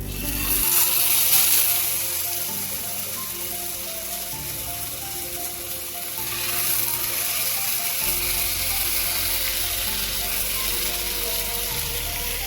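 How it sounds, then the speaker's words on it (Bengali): Chicken kabab skewers, coated with coriander, crackle and sizzle steadily in a little hot oil in a pan, a loud, continuous frying hiss with small shifts in intensity as the skewers settle, no talking. "তেলটা গরম হয়ে যাওয়ার পরে আমরা একে একে কাবাবের স্টিকগুলো এর মধ্যে দিয়ে দেবো"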